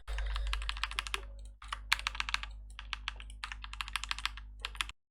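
Rapid keystrokes on a computer keyboard while typing a chat message in the online game Rise Online, in bursts of clicks with short pauses, close and clear, no talking.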